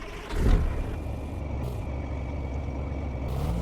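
A big-rig truck in the game Truck Simulator Big Rigs pulls out with a short hiss of air brakes, then a steady low diesel engine rumble with a faint whine.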